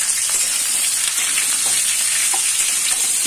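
Cauliflower pieces fry in hot oil in a pan, giving a steady, loud, close sizzle with a bright crackling hiss and occasional small pops throughout, with no voices.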